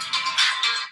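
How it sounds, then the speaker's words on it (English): A mobile phone ringtone chirps in three quick bright bursts over about a second, fairly loud and close, with no talking. "That was my phone."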